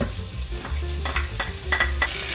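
Garlic and ginger fry in a pan with a steady soft sizzle, broken by a few sharp clinks and scrapes of a utensil stirring against the metal.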